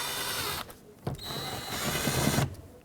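A power tool whirs in short bursts while driving screws under the grab handle of a 2008-2010 Ford F-250 door, close and steady with brief pauses between runs.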